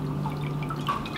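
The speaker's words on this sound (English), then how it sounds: "We're gonna take our facial squares and we're gonna get them wet." Water drips and trickles as facial squares are wetted, a soft, close, continuous patter over a low steady hum.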